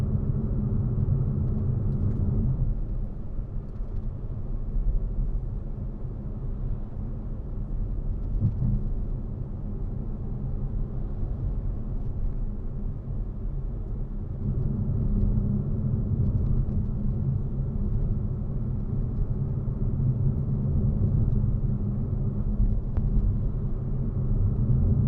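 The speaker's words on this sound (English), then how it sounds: "Just got that throaty 3-cylinder noise when you give it a bootful to accelerate up to speed" Toyota Aygo X three-cylinder engine heard from inside the cabin while accelerating, a low steady drone with road rumble that holds evenly throughout, with no talk.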